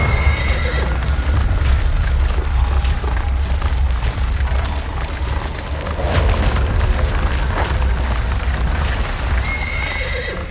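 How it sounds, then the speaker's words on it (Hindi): Several horses pulling a chariot neigh and whinny with clip-clopping hooves, set in a dense, loud dramatic mix with deep booms and rumbling throughout. "ये सूर्य देव का रथ था जिसे उनके सारथी अरुण चला रहे थे, जिनके रथ को सदैव 7 घोड़े ही खींचते थे"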